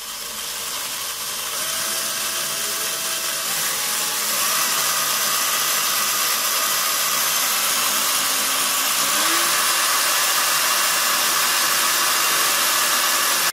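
Electric drill boring a small hole into ceramic wall tile while mounting a toilet paper holder, a steady high whirring drone that grows slightly louder partway through and runs continuously without talk.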